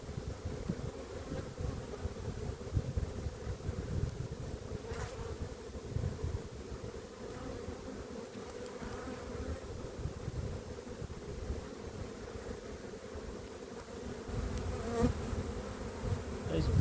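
Honey bees buzz in a continuous drone around an open nuc hive during an April inspection, steady and close, with light wind noise against the microphone and no talking.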